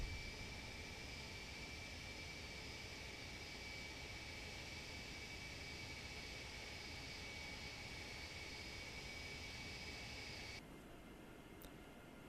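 Boeing 757 jet engines throttling up in the FSX flight simulator: a steady, even roar with a high whine held throughout, dropping slightly near the end, with no voices.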